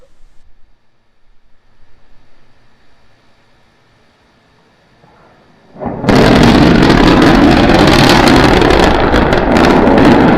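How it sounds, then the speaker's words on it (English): SpaceX Starship rocket engines during a landing burn: a few seconds of near-quiet low rumble, then a sudden, very loud broadband roar that holds steady to the end. "We're preparing to restart 2 engines, flip the vehicle vertical, then transition to 1 engine for the landing burn."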